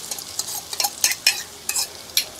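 Corn flour batter is stirred briskly to whip it into foam, giving a run of quick scraping, splashing strokes in an irregular rhythm, close and fairly loud, with no talking.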